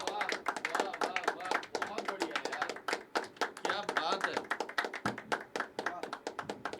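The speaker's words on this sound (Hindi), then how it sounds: "तालियां तो बजती ही रहनी चाहिए" Audience at a poetry open mic clapping in a steady, dense burst of hand claps that runs throughout, with voices talking over the applause.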